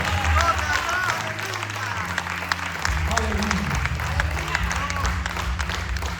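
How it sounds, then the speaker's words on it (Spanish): Church congregation applauding to God, sustained crowd clapping with cheering voices and a low musical hum underneath, while a preacher's voice speaks over it. "Den un aplauso muy fuerte a Dios."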